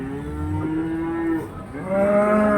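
Cattle moo at a livestock market in Glenmore, Banyuwangi, where Limousin cows are sold: a long low moo, then a second rising call, near and loud over steady background noise.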